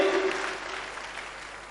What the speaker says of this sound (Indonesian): tepuk tangan lebih meriah lagi